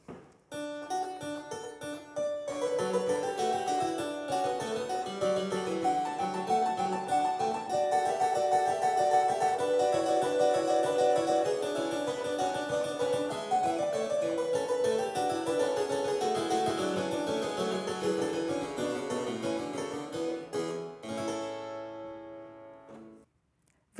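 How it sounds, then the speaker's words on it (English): A 350-year-old Italian harpsichord plays a bright, plucked, silvery passage of many notes for about twenty seconds, alone and clear, before the final chord rings off into silence. "The harpsichord has a really beautiful silvery sound produced by a simple mechanism when a plectrum plucks the string."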